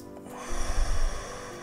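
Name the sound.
a breath taken during a guided relaxation exercise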